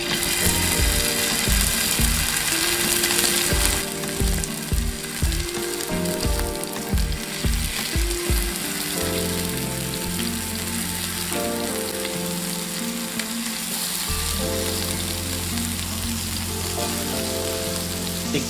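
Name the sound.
spicy chicken kababs frying on a tawa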